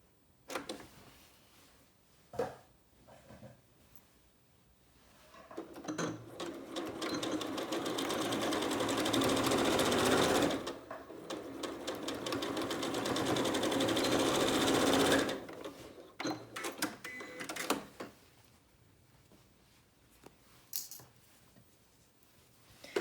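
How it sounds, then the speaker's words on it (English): A home sewing machine stitching a side seam of joggers at a 5/8 inch seam allowance, two long steady runs of rapid needle chatter separated by a short pause, with lighter handling clicks before and after, close-up and no talking. "you're going to stitch at a 5/8 inch seam allowance"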